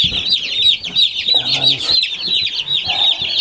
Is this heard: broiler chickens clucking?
yes